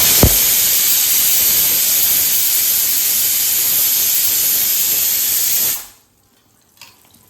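Potato dabda bhajiya frying in hot oil over a medium-low flame give a steady, loud, close hiss for several seconds, ending abruptly, followed by near silence and a faint clink.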